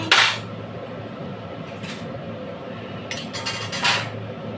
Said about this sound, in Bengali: নিয়ে নেবো দুটো খুন্তি।